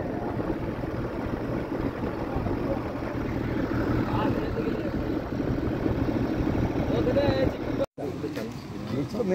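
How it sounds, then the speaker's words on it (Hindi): A tractor engine runs steadily through a ride to the Joganiya Mata temple near Bhilwara, a low mid-pitched drone under people talking, with a brief cutout near the end. "हमें अभी यहाँ पे मिल चुका है ट्रैक्टर, जो कि भाई ताऊ जी लेके चल रहे हैं हमें घुमाने के लिए"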